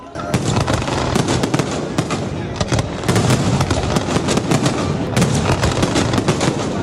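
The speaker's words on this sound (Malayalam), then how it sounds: "അൽസിഫിൽ കടലിലും ആകാശത്തുമായി വിരിഞ്ഞ ഈ വെടിക്കെട്ടോട് കൂടിയിട്ടാണ് ദുബായിലെ ദീപാവലി ആഘോഷങ്ങൾ ആരംഭിച്ചത്" Diwali fireworks burst over the sea at Al Seef in Dubai, a loud, dense barrage of cracks and booms rolling almost without pause, mixed with faint crowd noise.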